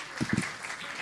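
Applause from a comedy talent show audience, a steady wash of clapping with a few sharper claps near the start, briefly heard.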